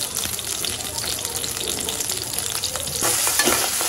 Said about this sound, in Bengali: হালিমের জন্য পেঁয়াজটা বেরেস্তা করে নেব।